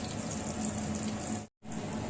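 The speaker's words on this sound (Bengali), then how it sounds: "হালকা আঁচে আপনি কিন্তু এগুলো ভেজে নেবেন" Potato chops (Bengali aloor chop) frying in oil on low heat, a steady broadband sizzle with no talk, broken briefly by a short silent gap.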